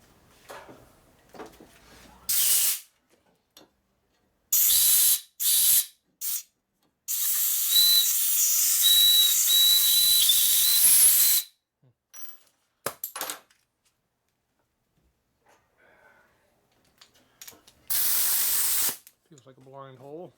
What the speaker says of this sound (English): your air nozzle goes all the way to the very bottom of the hole, and it blows all the crap out